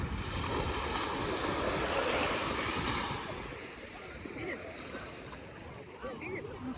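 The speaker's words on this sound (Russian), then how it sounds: "Море спокойное сегодня." Calm sea waves wash onto a crowded beach in Vladivostok, a steady broad surf hiss loudest in the first three seconds and then easing slightly, with wind buffeting the microphone throughout.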